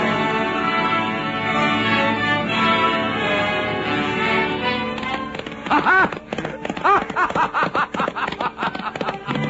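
Horse hoofbeats gallop off in an old-time radio drama about a highwayman, a rapid irregular clatter that takes over after a stretch of orchestral music and stays loud and close.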